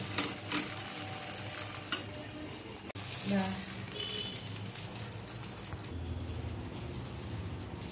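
Uttapam frying in a pan gives a steady broadband sizzle throughout, with occasional stirring and scraping clatter and brief faint voice-like tones mixed in.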